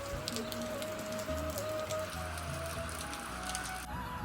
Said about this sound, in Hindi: ये देखो चारों तरफ बारिश हो रही है